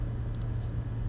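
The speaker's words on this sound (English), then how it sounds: "you can hear mouse clicking now" A computer mouse gives two quick faint clicks close together over a steady low hum.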